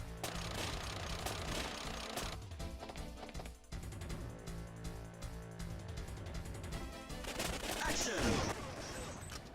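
Rapid light-gun gunfire from the Time Crisis arcade shooter, dense bursts of shots over a continuous driving game soundtrack, loud and sustained throughout.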